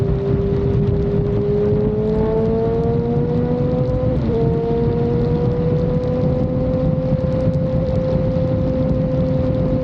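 Kawasaki Z1000R motorcycles racing on the road to Agno, Pangasinan, a loud, continuous engine drone whose pitch climbs as the bikes rev, with wind rushing over the microphone throughout.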